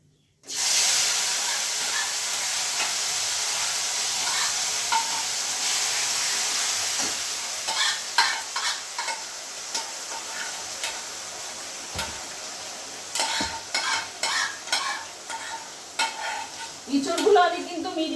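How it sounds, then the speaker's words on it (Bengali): Spice paste with tomato and chilli hits a hot kadai in a loud burst of sizzling, then fries with a steady hiss while a spatula repeatedly scrapes and stirs, the clatter growing busier toward the end. "তো এইবার আমি এই পেস্টটা এই কড়াইতে দিয়ে দেব।"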